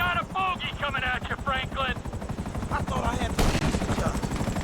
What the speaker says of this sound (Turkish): Uy bu arada bayağı bir helikopter geliyor.